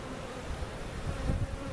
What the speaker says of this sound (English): Lots of bees in there, thousands.